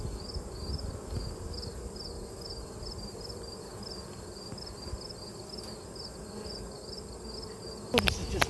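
Honey bees buzzing in front of their hive, a steady dense hum close by with a faint repeating high chirp, ending with a few knocks.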